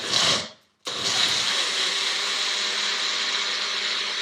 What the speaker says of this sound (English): as the magic bullet is going